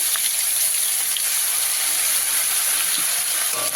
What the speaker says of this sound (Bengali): এবারে এর মধ্যে আমি আদা রসুনের বাটা দিয়ে দিলাম দু চামচ